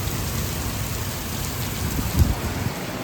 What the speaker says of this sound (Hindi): इतनी ज़्यादा बारिश हो रही है।